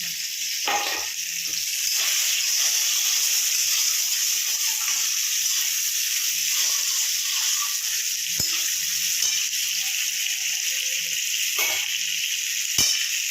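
Chillies frying in hot oil in a pan for a vegetarian potato, taro and lentil-dumpling dish give a steady, close sizzling hiss, with a few sharp clicks and pops and no talking.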